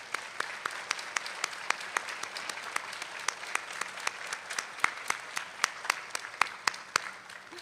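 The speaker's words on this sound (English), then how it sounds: "I want you to give them a big round of applause." Audience applause at a health sciences university white coat ceremony, as faculty members stand to be recognized. Steady, moderately loud clapping fills the hall throughout, with sharp individual claps standing out from the crowd.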